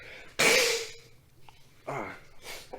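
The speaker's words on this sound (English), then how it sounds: "I had to blow my nose" A person blows their nose in two loud, breathy bursts, the first stronger and longer, with a quieter honk between them, close to the mic during a casual podcast.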